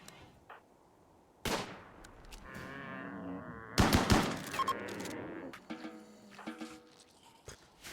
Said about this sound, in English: That minigun.